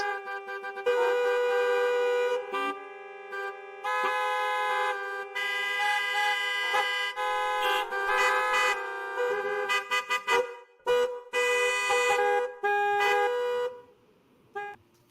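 Car horns honk repeatedly in a long, loud traffic jam on a city street, sustained blasts overlapping with brief gaps, no talking.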